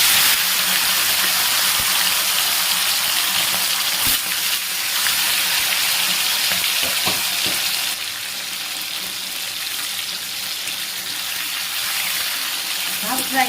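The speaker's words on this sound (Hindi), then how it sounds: "अभी मैं चिकन को हल्का हल्का फ्राई करूँगी।" Chicken pieces fry lightly in a pan for an Assamese-style chicken dish, giving a continuous close sizzle with occasional sharp clicks and clatters from stirring.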